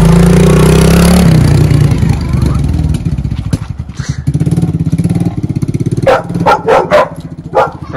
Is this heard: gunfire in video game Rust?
no